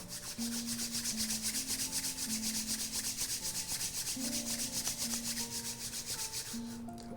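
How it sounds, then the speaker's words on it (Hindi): Two hands are rubbed together hard and fast, a loud rhythmic swishing friction that repeats evenly for several seconds over a soft sustained musical drone. "दोनों हाथों को जोड़ लें और जोर से रब करें।"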